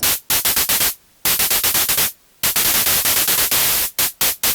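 Hi-hat synthesized from noise on a Kodamo Mask1 through a resonant high-pass filter: rapid bursts of hissing noise in quick repeating clusters with brief silent gaps, loud and close, no talking.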